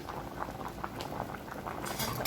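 A pot of Jamaican red peas soup with pigtail boils steadily, giving a quiet, close bubbling and popping patter that continues throughout, with faint clinks near the end.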